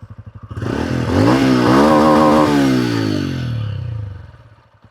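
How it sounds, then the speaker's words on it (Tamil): A TVS 200cc retro cruiser motorcycle starts up and idles, its exhaust settling into a loud, close, steady beat that rises and then fades back toward the end. "இந்த பைக்கில் இருக்க அந்த எக்ஸாஸ்ட் நோட் வந்து அந்த ரெட்ரோ க்ரூசரை ரிமம்பர் பண்ணுற மாதிரி இருக்குன்னு சொல்லலாம் கேட்போம்"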